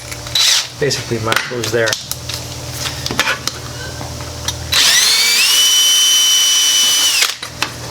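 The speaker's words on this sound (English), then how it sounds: "Now we're fully drilled through." A power drill bores through a panel of a Toyota Tacoma, with short bursts before a loud steady whine that holds for a few seconds and then stops. Someone talks close by during the early bursts.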